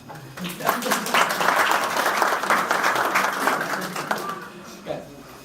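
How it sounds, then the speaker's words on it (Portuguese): An audience at a wellness fair talk in Amora in 2013 bursts into applause, a dense, steady round of clapping lasting several seconds before fading out. "Salva de palmas."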